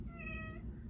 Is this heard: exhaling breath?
no